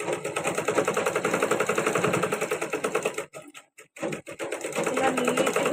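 A sewing machine stitching a blouse, running close and loud in a fast, steady mechanical rhythm. It stops briefly partway through, then resumes its rapid stitching.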